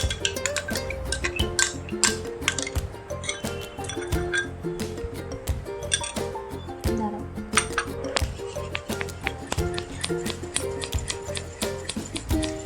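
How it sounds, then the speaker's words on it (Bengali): A spoon stirs sour and sweet yogurt together in a bowl for a mango yogurt dessert, giving quick, steady clinks and scrapes against the container, close and fairly loud, with a little speech in the background. "দু রকমের দই দিয়ে ভালো করে মিশিয়ে নিতে হবে"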